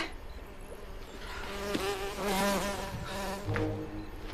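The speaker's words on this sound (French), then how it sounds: "Qu'est-ce qu'elle te fait, la mouche?" A housefly buzzes steadily and fairly close, its drone wavering in pitch and loudness over several seconds with no speech.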